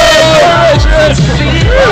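Crowd cheering and shouting encouragement during a fast pants-wearing challenge, loud overlapping yells and whoops rising and falling in short bursts close by.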